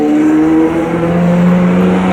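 A Ferrari 355 passes close by, its engine a loud, steady droning roar with a rising tonal pitch throughout the brief pass, heard outdoors.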